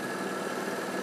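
Car engine with a gen2 launch control setup for antilag, rev limiter and exhaust pops, holding a steady, loud, even drone close by without clear rises in pitch.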